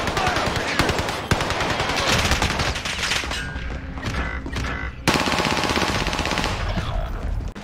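Bursts of automatic machine gun fire from a video game, loud and close, rattling in rapid volleys with brief pauses between them.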